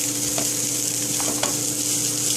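Food sizzles steadily in a pan with vegetables while a utensil stirs it through, a constant frying hiss with a few soft scrapes, close and continuous with no talk.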